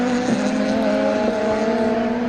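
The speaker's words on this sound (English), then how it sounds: "making his way around at the moment in that Ford Mondeo" Ford Mondeo Super Touring race car circulating Oulton Park, its engine holding a loud, steady high-revving drone with brief gear-change dips, heard close and continuous without any voices.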